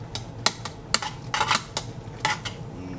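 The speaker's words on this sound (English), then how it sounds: "Give it a stir. Just melt the butter." Pasta with melting butter is stirred in a pot, with a utensil scraping and clinking against the metal in irregular, fairly close taps and short scrapes, and no one talking.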